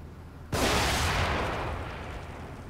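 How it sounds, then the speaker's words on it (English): A sudden explosion in the video game The Evil Within, a loud blast that hits at once and then rumbles and fades over a couple of seconds, with no talk. "Apparently, I exploded myself."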